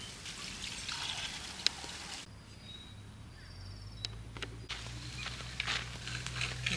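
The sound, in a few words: washing prawns in water with salt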